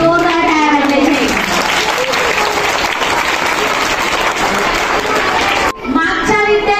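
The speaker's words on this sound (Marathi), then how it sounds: "सर्व विद्यार्थ्यांची जोरदार टाळ्या वाजवायच्या" Loud, dense applause from a crowd of school students at an elocution competition fills the space continuously, then breaks off suddenly near the end as a voice begins speaking.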